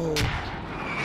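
A TOW missile launches during a large online Squad match, a sudden loud whooshing blast that rolls into a lingering rumble, with faint battlefield ambience continuing underneath.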